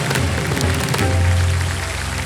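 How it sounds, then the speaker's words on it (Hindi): Dense, steady audience applause fills a game show studio on Kaun Banega Crorepati, a loud wash of clapping with no gaps throughout. "तालियां बज जाए"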